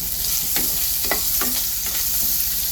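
Onion, tomato and grated coconut sautéing in a pan for a black chickpea curry, with a steady close sizzle and several scraping stirs of a spatula at irregular intervals, no voices.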